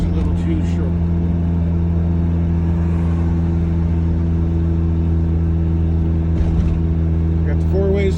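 Steady mid-pitched engine drone from a 1981 Ford Courier pickup with a cracked block on a road trip, holding a constant hum throughout with no clear gear changes, while someone talks over it.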